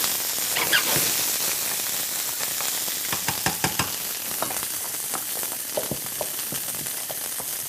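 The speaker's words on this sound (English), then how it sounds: "take our garlic, put it right in our pan" Finely chopped garlic sizzles in a hot pan for a butternut squash stuffing, a steady close frying hiss broken by sharp crackles and pops. No one speaks.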